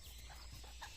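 A chicken clucks briefly and faintly at an outdoor cooking spot in nature, a short soft burst of low clucks.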